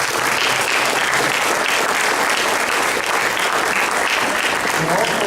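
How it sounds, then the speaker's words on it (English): Sustained applause from an audience at a 2016 Hall of Fame induction ceremony, a dense, steady wash of clapping that stays loud and even throughout. "I'd like to start off by offering or asking all of you to give Charmaine a round of applause."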